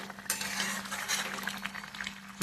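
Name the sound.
chicken meat being stirred and sautéed in a pan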